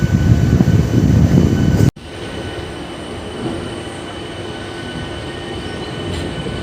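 A Santragachi–Amta local train rumbles loudly along the rails near Amta station, then the sound abruptly drops to a steadier, quieter rolling clatter with faint squeals.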